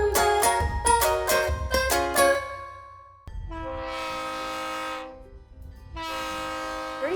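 Verde Canyon Railroad train in Arizona's canyon country, sounding loud repeated horn blasts, then long sustained horn tones over the rumble of the running train, heard up close.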